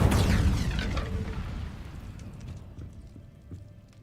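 Incendio fire spell cast in Hogwarts Legacy: a loud, roaring burst of flame at the start that slowly decays into crackling rumble and scattered pops over several seconds, heard alone without speech.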